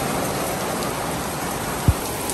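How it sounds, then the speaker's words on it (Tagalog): Steady heavy rain pours down in a dense, constant hiss, with one brief low thump partway through. "Malakas ng ulan ngayon. Ayan guys, lakas ng ulan."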